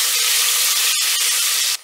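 Ingredients browning in a hot pan before fish goes in, giving a loud, steady broadband sizzle that holds evenly for nearly two seconds and then drops off abruptly at the end.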